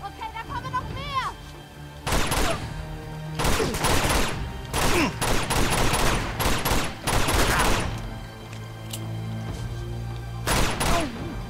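Video game gunfire in Uncharted: Among Thieves, with bursts of rapid shots arriving in repeated volleys over a background of game music and effects, loud and close, with someone talking between the bursts.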